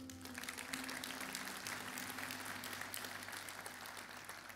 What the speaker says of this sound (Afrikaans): kom ons geef hulle lekker hande klap